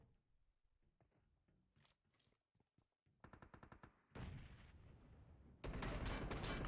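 Bursts of gunfire in PUBG, a rapid run of sharp shots followed by louder sustained firing that grows heavier toward the end, with quieter game sounds beforehand.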